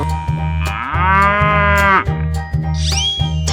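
A cartoon cow in a 3D animal slide game gives a loud, drawn-out moo over a steady, bouncy backing tune, ending with a bright chime.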